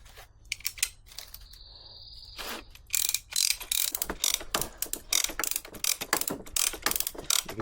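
Ratchet cranked to tension a strap around sawmill slabwood, giving a run of rapid, loud metallic clicks in bursts, with quieter handling at first and no talk.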